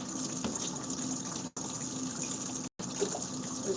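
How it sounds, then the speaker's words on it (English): Water sloshes and churns inside an ice maker's basket as it is rocked back and forth, a steady close gushing wash with two brief cuts. "me rocking it like this is agitating the water"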